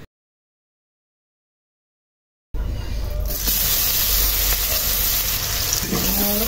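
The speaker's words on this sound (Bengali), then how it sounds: "এখন একই তেলের উপরে কিছুটা পেঁয়াজ ভেজে নিয়ে মশলাগুলো কষিয়ে আমি তরকারিটা রান্না করে নেব।" Onion frying in the same hot oil left from frying fish, a dense, loud, steady hiss and crackle after a couple of seconds of silence, with faint clinks on top near the end.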